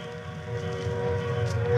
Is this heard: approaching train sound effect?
yes